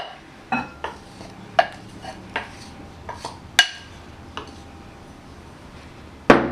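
Two cups of flour are dumped into a mixing bowl for homemade biscuits. Scattered clinks and taps of a cup and utensils against the bowl ring out singly over a quiet background, with a sharper knock at the end.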